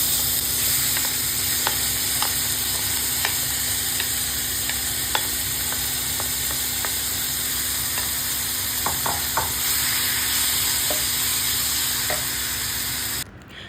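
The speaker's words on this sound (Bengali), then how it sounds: "এরপর এই তেলের ওপর মেখে রাখা চিংড়ি মাছগুলোকে দিয়ে দেব।" Marinated prawns sizzle steadily in hot oil in a pan for prawn kasha, a continuous dense frying hiss with scattered small pops and crackles, close and fairly loud, ending abruptly.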